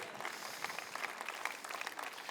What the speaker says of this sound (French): Quelqu'un devrait applaudir les héros.